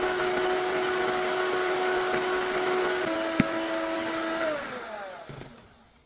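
An electric hand mixer whips three eggs with 100 grams of sugar and a little emulsifier, giving a steady, close whirring drone that winds down and fades out near the end.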